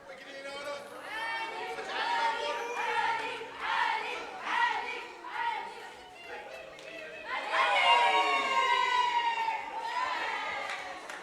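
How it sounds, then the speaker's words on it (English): A snooker crowd at a live shootout event at the Crucible Academy cheers and shouts in a loud, sustained roar that swells toward the end, with a commentator talking over it. "Crowd still very vocal."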